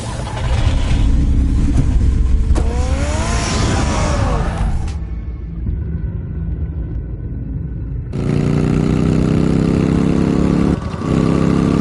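A car engine in the Batman video game runs and drives, a loud steady rumble with a rising whine partway through, dropping back before the engine returns strong and close near the end.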